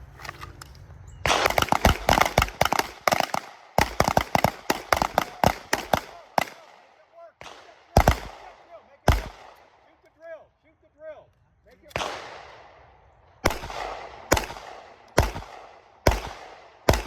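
Rapid pistol shots ring out on an outdoor shooting range, loud and close, with a fast string early on, followed by more spaced single reports from nearby shooters.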